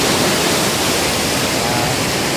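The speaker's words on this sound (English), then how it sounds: "I'm now about 2 feet away from the waves coming in" Waves come in on Barranca beach close by, about two feet away. A loud, continuous broadband wash of surf and breaking water fills the whole span without any clear gaps.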